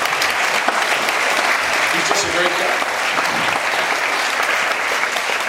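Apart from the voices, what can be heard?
audience applause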